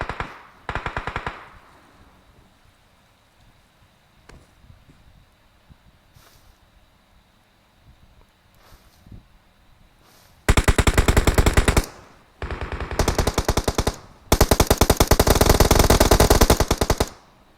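Automatic gunfire in PUBG Mobile: a short burst early on, a quiet stretch with faint scattered noises, then three long, loud, rapid bursts of machine-gun fire close by toward the end.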